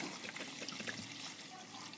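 Water is poured steadily into a cooking pot for chicken soup (shorba), about one and a half litres going in as a continuous close splashing rush with no voices.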